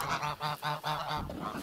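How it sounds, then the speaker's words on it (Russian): A flock of 17 geese honks in a quick run of six or so loud, nasal calls, close by and without speech. "17 гусей"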